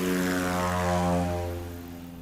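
Backcountry STOL propeller airplane landing into a crosswind with flaps down, a loud steady engine drone with strong harmonic hum that gradually eases off as it passes.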